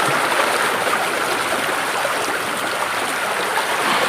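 Water from a small babbling stream rushes and gurgles steadily, a continuous close wash of flowing water with no pauses, near a spot where a cow grazes.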